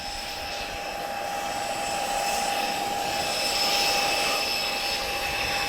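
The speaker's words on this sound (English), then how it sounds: "this jet's giving us a flyby" A jet aircraft makes a flyby at the Portugal Air Summit airshow, a loud sustained roar with high whining engine tones that swell gradually as it passes.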